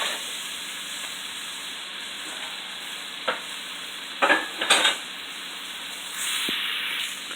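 A shrimp stir fry hisses steadily in a pan with a constant bright sizzle, broken by a few louder bursts of crackling and clatter midway, close and with no talk.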